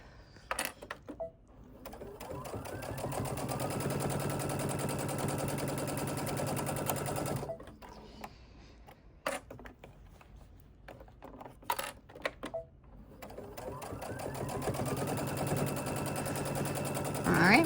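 A quilting sewing machine stitches a witch's hat pattern edge to edge across a quilt, a steady rapid mechanical whir in two long runs, separated by a quieter stretch with a few clicks and knocks.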